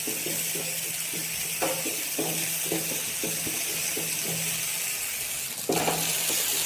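Ginger-garlic paste fries in a pan with a loud, continuous broadband sizzle, punctuated by regular soft scraping strokes of stirring that repeat through the whole stretch.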